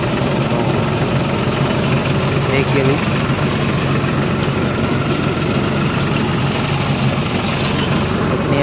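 A tractor engine pulling a reaper harvesting sesame runs steadily at close range, a constant low rumble throughout, with someone talking over it.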